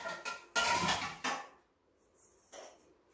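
An iron kadhai handled in a home kitchen: sharp metallic clanks and scrapes, two loud knocks close together followed by a quieter clatter, close and alone.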